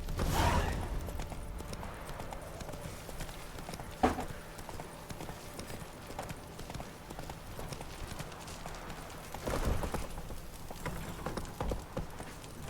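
Horse hooves clip-clopping at a ride in the video game The Witcher III, a steady rhythmic trot with a few louder thuds, with faint rain-like background ambience.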